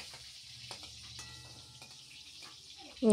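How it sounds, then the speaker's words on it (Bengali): Eggplant slices frying in white oil, a soft steady sizzle with faint crackles, ending in a sudden louder burst of hissing. "এই যে এখন বেগুনটা লাল লাল করে ভেজে নিচ্ছে মা"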